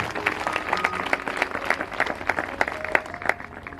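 Congregation at a Sunday church service clapping loudly together, rhythmic and quick with sharp individual claps mixed with voices and a tonal musical background, close and lively.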